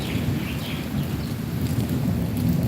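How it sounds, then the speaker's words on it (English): Steady rain falls throughout with a constant broad wash and low rumbling that suggests thunder, heard outdoors during a walk near a Chiang Rai temple in Thailand. "I'm really enjoying the sound of, like, the thunder and the rain"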